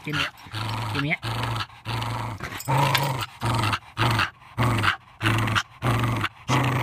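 Wire hair fox terrier growling in rhythmic bursts during a tug-of-war game, loud and close, with a person talking over the repeated growls.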